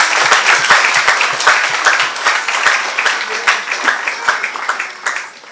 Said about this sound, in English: Can everybody please have a round of applause?